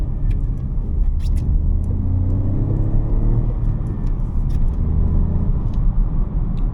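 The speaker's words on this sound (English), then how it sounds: "On acceleration, it doesn't sound too bad, but you can definitely hear the engine working." A Vauxhall Mokka GS with a 1.2-litre three-cylinder turbo engine accelerates, giving a loud, steady engine drone and road rumble heard from inside the car, with no talking.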